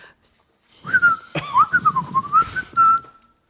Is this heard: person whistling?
yes